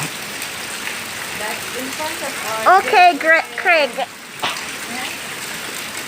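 Heavy rain from Tropical Storm Zeta in Jamaica makes a constant hiss and patter throughout, while a person speaks briefly over it in the middle.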